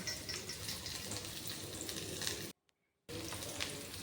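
Sliced onion, dried red chillies and curry leaves sautéing in oil in a pan for moong dal kuzhambu, a steady close crackling sizzle that cuts to silence briefly midway, then resumes.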